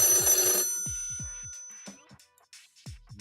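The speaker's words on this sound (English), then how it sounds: "Oh, it's ringing again." A telephone bell rings loudly at the start, then fades out, followed by faint clicks and thumps of handling in a quiet room.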